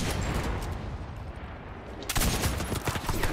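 Machine gun fire in a Hurtgen Forest World War II shooter: sustained, distant-sounding bursts under a rumbling battle wash, turning louder and sharper near the end.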